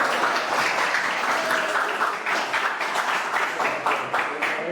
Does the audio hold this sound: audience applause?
yes